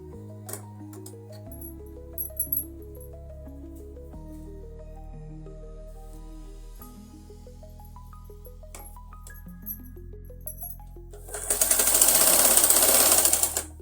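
A sewing machine hums steadily and ticks as it stitches a strip onto fabric in a curve. A burst of louder, broadband noise rises near the end.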